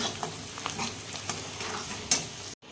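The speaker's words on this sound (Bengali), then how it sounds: "পেঁয়াজ আর কাঁচা লঙ্কা ভাজছি" Steady frying sizzle of onions and green chillies in a pan with light scraping as they are stirred, close and continuous, ending abruptly in silence.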